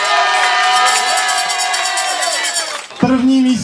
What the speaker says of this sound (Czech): Potlesk pro Přemešnou.